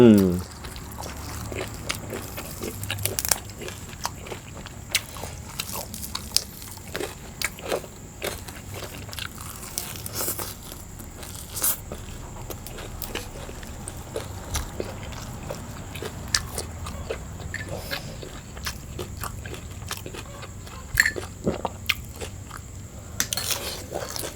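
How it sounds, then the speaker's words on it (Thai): Close-up crisp bites and crunchy chewing of a fresh raw vegetable served with crispy pork wraps, with repeated crackling crunches and occasional speech. "แต่ผักตัวนี้กรอบมากเลย"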